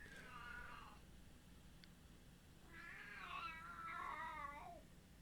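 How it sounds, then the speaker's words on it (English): An unhappy cat gives two drawn-out, wavering meows, a shorter one first and a longer, more complaining one after a pause, fairly close against a quiet indoor background. "The cat's unhappy."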